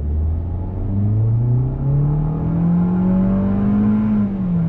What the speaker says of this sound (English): Let me do a little acceleration test.